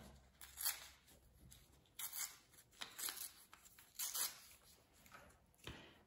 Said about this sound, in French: Vous allez déchirer les bouts.